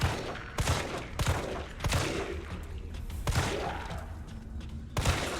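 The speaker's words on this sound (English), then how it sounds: "There's the critical headshot" Gunfire in Resident Evil 3 on PS5: a string of heavy, evenly spaced shots ending in a critical headshot, each sharp crack ringing out over a dense, busy game soundscape.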